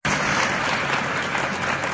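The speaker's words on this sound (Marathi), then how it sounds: "टाळ्या जरा कमी झालेल्या आहेत" A large audience at a career guidance lecture breaks into dense, continuous applause that stays steady and fairly loud throughout, with no voices on top.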